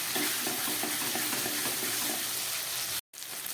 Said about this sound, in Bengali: এবার দিয়ে দিচ্ছি এই মশলা ধুয়ে জল, মিক্সির জলটা